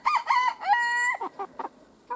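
Backyard chickens cluck and a rooster crows once with a drawn-out, tonal call, close and clear, followed by a few short clucks and no talking.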